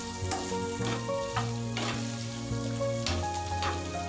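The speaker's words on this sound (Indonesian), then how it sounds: "diaduk sampai benar-benar cuminya itu kelihatan matang" Squid pieces fry in a pan with oyster sauce and green chili while being stirred, giving a continuous close sizzle broken by soft spatula scrapes, with faint music underneath.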